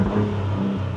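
A 2024 Ford Bronco Raptor in R mode with its exhaust opened up gives a brief, close, deep rumbling drone with a low throbbing tone, alone and steady for about a second.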